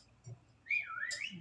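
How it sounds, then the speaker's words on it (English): A whistle call emote in the video game Sky: Children of the Light, a short rising and falling melodic whistle that sounds clearly on its own after a brief soft tone, with no speech. "And one gave us that whistle call."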